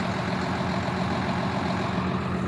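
A tractor engine runs at a steady idle close by on a farm, a continuous low rumble with an even, unchanging drone throughout and no talking.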